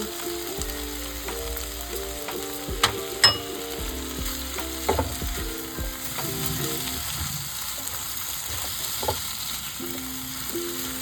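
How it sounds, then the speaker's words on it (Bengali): Ginger paste goes into hot oil with brinjal and drumstick vegetables for a tangra fish curry, giving a steady close sizzle with occasional clinks and scrapes of stirring throughout. "এবার আমি আদা বাটাটা দিচ্ছি।"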